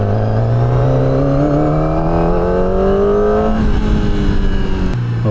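QJMOTOR SRK250RD motorcycle engine revving steadily on a test ride, its pitch climbing smoothly for several seconds before dropping abruptly, loud and close with a continuous drone and no talking.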